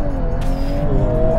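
A Volkswagen Golf R with a dual-clutch automatic gearbox and launch control pulls away at full acceleration, its engine droning loudly and steadily close by, with a brief burst of tire noise partway through.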